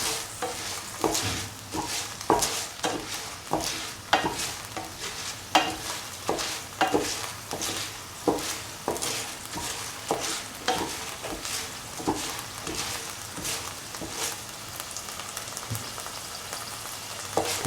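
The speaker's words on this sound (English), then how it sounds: "Saute nicely." Green gram and coconut sautéed in a pan, a soft steady sizzle broken by regular sharp scraping taps of a spoon stirring against the pan, close and fairly quiet, with no talk.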